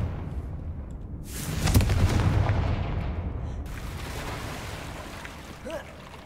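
Confringo blasting spell cast in the Hogwarts Legacy video game, heard as a loud booming burst with a rumbling tail that fades over several seconds amid game ambience.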